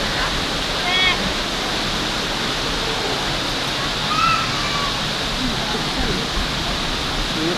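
Janet's Foss waterfall in the Yorkshire Dales pours with a steady, close, broadband rushing roar that never lets up, while a few birds chirp faintly over the water.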